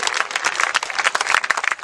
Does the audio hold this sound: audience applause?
yes